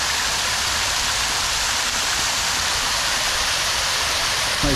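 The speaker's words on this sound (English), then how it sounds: "This is the fish fountain." The fish fountain in Timisoara, Romania, splashing with a loud, unbroken hiss of falling water close by, steady and alone with no voices.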